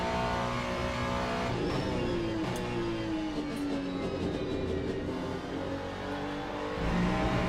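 Race car engine of a Ferrari in a sim racing game, a steady close roar with rising and falling revs as the car accelerates, loud and continuous with no talk.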